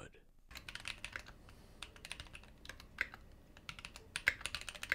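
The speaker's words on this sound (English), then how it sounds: "The switches I chose are Gateron Phantom Browns, which are actually pre-lubed and sound so good." Fingers type on a Keychron mechanical keyboard fitted with pre-lubed Gateron Phantom Brown switches and ABS keycaps, a soft, steady patter of close keystrokes with occasional louder taps and no talk.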